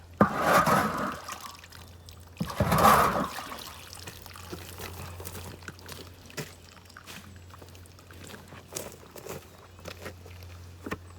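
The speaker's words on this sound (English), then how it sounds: "Oh, I can hear it draining now." Water draining out through the drainage hole of a plant pot, with two brief splashy gushes early on, then faint, sparse trickles and drips in a quiet room.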